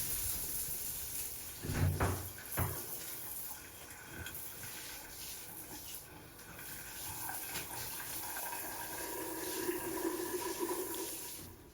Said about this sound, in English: we're using the shower head